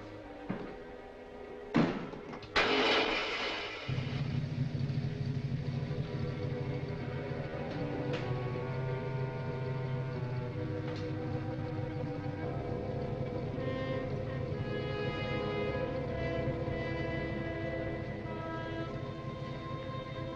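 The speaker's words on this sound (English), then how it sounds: "Start the motor." An old car motor turns over with a few thumps and catches, then settles into a steady droning idle that runs on loud and even, with faint scuffling near the start.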